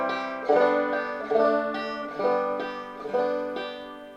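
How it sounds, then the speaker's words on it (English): Clawhammer banjo harmony part: strummed chords on an open-backed banjo, played close and clear, with a steady pattern of roughly six even chord strokes ringing over about four seconds, no voices. "Now the harmony, that's made up of strumming and chords"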